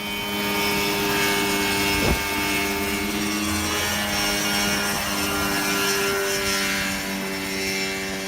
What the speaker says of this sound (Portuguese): Esse cara tá voando rumo ao pôr do sol em um helicóptero caseiro.